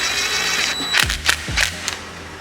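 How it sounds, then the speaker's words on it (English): On a 2021 Yamaha YZ125 fender, a bolt is threaded and tightened into the number plate, giving a mechanical whir with several sharp clicks and brief ratcheting bursts close by. "I'm just gonna thread in our bolt and I will just tighten that down"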